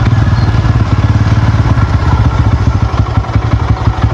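A motorcycle engine idles with a steady, close, throbbing putter as the bike stands stopped on a newly built hill road in Gulmi, Nepal. Light clattering runs through the loud, unbroken rumble.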